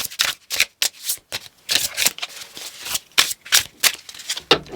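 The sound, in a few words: shuffling tarot cards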